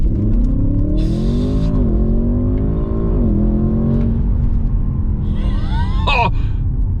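An Audi S8 launches hard from launch control, its engine roaring loudly and climbing in pitch through quick gear changes, then easing off near the end, with no voices.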